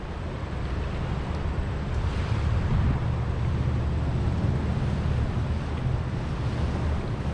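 A flooded river after a hurricane rushes in a steady, loud broadband roar, and gusts of wind buffet the microphone throughout.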